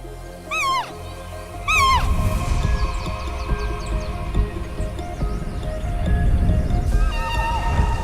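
A giant panda cub in dense forest makes several high, wavering, cat-like squeals one after another, close and clear over a low rumbling background.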